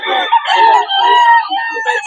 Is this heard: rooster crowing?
yes